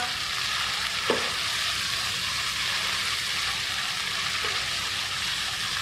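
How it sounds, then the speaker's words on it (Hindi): Chicken for angara karahi fries in oil with a steady, dense sizzle that stays even throughout, broken only by a faint stir or two. "आपने इसको इतना फ्राई करना है कि इसका ऑयल अलग हो जाए"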